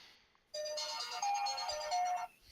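A phone ringtone plays a steady electronic melody for about two seconds, clear and fairly loud, starting abruptly and cutting off, over quiet background.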